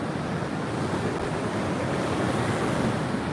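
Ocean waves and strong wind at Sawarna beach, a constant loud roar of surf with gusting wind buffeting the microphone throughout, no distinct breaks between swells.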